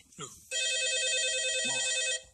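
A telephone rings with a steady electronic trill lasting over a second, loud and close, preceded by a brief voice in a television studio setting.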